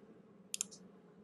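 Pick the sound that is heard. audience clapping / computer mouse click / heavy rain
computer mouse click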